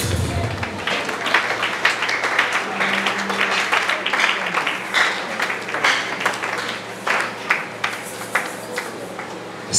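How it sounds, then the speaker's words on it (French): An audience at a church gathering applauds loudly, a sustained wash of many hands clapping that holds steady throughout, with a few voices faintly beneath. "Est-ce qu'on peut acclamer très fort?"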